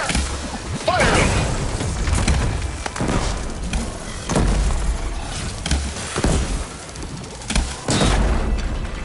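Gunfire and explosions from combat in Horizon Forbidden West, with a run of heavy booms and sharp shots hitting about every second or two over a dense, noisy battle backdrop.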